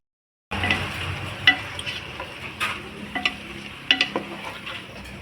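A spoon stirs mixed vegetables in a pot for a Kerala Vishu avial, with soft sizzling broken by a series of distinct scraping and clinking strokes against the pot, close and without talking.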